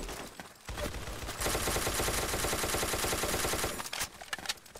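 Submachine gun fire in a video game comes as a loud, rapid continuous burst lasting a couple of seconds, framed by quieter game sounds before and after.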